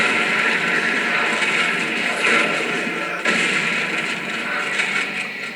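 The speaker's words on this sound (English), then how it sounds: "Let's see how they like it when they get stuck by their own torque bows" Torque bow bolts exploding in the video game Gears of War 2, a run of loud, dense crashing blasts with a sharp extra hit midway, continuous and close with no talk.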